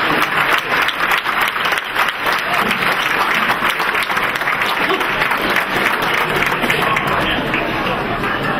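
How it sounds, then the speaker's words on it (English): Sustained audience applause at a chamber of commerce annual meeting and awards event, dense steady clapping from a large crowd filling the whole stretch at even loudness. "Please give them a round of applause."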